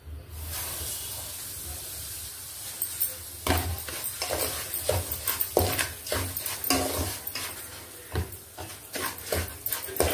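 Semolina (rava) roasting in ghee over a low flame, stirred in a wide pan: irregular spoon scrapes and clatters sit on top of a steady frying hiss, close and fairly quiet, with no talking.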